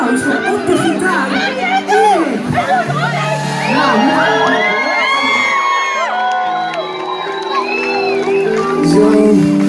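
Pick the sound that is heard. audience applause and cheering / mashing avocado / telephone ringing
audience applause and cheering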